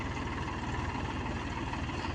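A water pump motor drones steadily and evenly, a close, continuous low mechanical hum with no other sounds.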